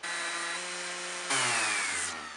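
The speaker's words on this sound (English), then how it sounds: "now we're gonna try an 80 grit of sandpaper" A steady, buzzing whir of an electric sander with 80-grit sandpaper working a painted furniture surface, shifting to a rougher, louder grind about halfway through, with no voices.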